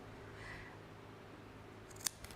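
Scissors snip through die-cut card in a single sharp close cut, with a smaller second snip just after, over a quiet room hum.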